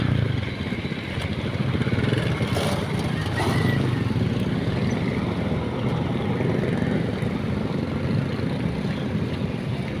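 Motor vehicles pass steadily along a highway, a loud continuous engine roar with a few brief peaks, no clear talk over it.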